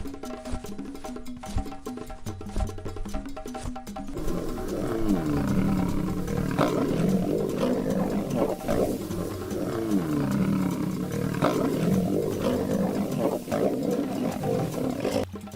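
After a few quieter seconds, a lion on the open plains gives a run of deep, heavy roars. The roars are loud and close and come in repeated surges.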